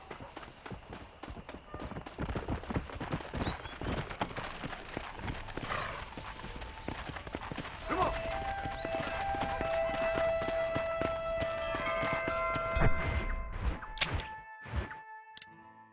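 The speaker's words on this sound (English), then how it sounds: "Está mi caballo." Horse hooves clip-clop at a steady run in the video game Red Dead Redemption on Xbox Series, with a short neigh and scattered game thuds; the hoofbeats stay prominent throughout, and a brief voice is heard near the end.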